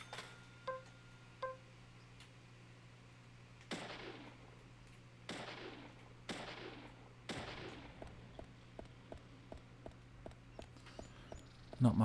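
Gunshots ring out in Deadly Premonition: four loud, sharp shots with echoing tails come at uneven intervals, followed by a run of quicker, fainter reports, over a steady low hum with no talk.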